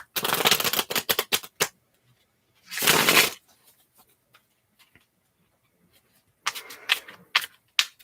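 Tarot cards with a textured, non-slippy coating being shuffled: bursts of crisp riffling and card flicks at the start, around the three-second mark and again near the end, separated by quiet stretches.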